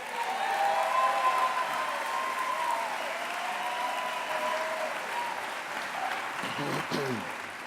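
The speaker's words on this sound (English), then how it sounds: "I think that Mr. Francisco deserves a round of applause" Audience applause at a social justice teach-in gathering, a steady wash of clapping hands that holds through the whole stretch, with a voice starting to speak faintly near the end.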